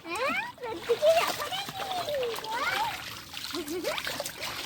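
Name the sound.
children splashing in dirty flood water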